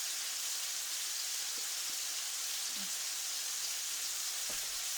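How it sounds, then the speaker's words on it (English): Cube steaks frying in a pan give off a steady, even sizzle and hiss that continues unbroken, with a few faint pops and clinks underneath. "We're going to let them fry probably 5 minutes on each side, 4 or 5 minutes"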